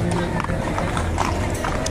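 Horses' hooves clip-clopping on a town street during a horseback parade, a busy patter of many hoofbeats mixed with steady crowd and voice noise.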